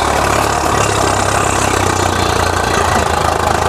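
A tractor engine runs at a steady idle at the Said Nagli tractor market, a loud, continuous low diesel rumble with a knocking pulse and no talk over it.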